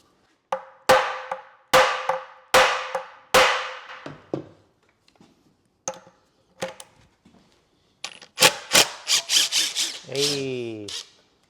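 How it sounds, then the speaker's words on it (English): Sharp metallic hammer blows during an InMotion V13 electric unicycle teardown, a handful of strikes in bursts with pauses between, followed by a quick flurry of taps and a short voice at the end. "Then we gotta use a hammer."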